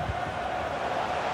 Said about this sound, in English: The crowd urging him to shoot.